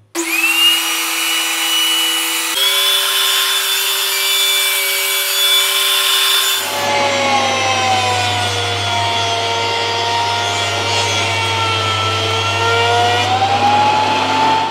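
A thicknesser planer fitted with helical blades runs on its own with a steady, loud whine, then its pitch drops and grinds heavier as a wooden board feeds through the cutter and keeps planing.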